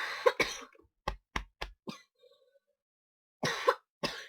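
Coughing from a person with asthma and a cold: a harsh cough, a quick run of four short coughs, then two more bursts after a silent gap, close and dry.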